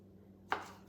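A kitchen knife chops cooked shrimp for a salad, a single crisp cut striking the board, fairly close against a quiet background.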